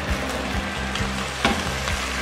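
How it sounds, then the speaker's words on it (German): Chicken meat browning in a frying pan, turned to sear on all sides for enchiladas, gives a steady close sizzle with light scraping stirs throughout. "Wir haben das Hähnchenfleisch in die Pfanne gegeben und braten es jetzt von allen Seiten richtig gut an."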